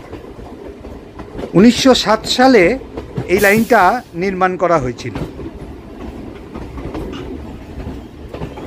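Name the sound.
train running on the Kakurgachi chord line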